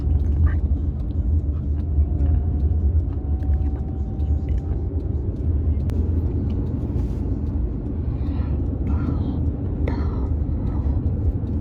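Grab taxi ride in Singapore, a continuous in-car road rumble and engine drone throughout, with faint quiet voices inside the cabin.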